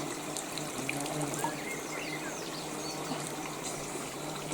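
A soft, steady trickle of very cold spring water running in a Carpathian village, faint and continuous, with no voices.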